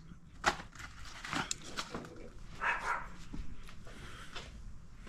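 Dogs bark several times in short, sharp bursts at a moderate distance, spread across a few seconds with some faint yips and background clatter from a garage where an MGB is being worked on.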